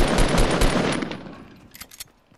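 A Fortnite SMG fires in a rapid sustained burst of loud, close shots, then tapers into scattered fainter pops.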